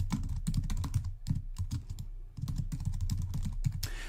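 Typing on a computer keyboard, a steady run of close, distinct key clicks in quick uneven rhythm with a short pause midway, no talking.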